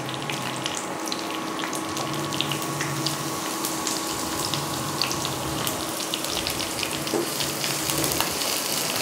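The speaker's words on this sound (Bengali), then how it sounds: "একটু ভেজে নেবো।" Onion sizzling in a hot pan with a steady, dense frying hiss and crackle, close and continuous throughout with no talking.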